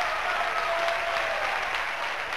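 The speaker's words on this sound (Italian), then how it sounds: "Applaude il pubblico della Sant'Elia" Sustained applause from the stadium crowd at the Sant'Elia after Italy's goal in a women's football match against Finland, a dense, even roar of clapping with no voices over it.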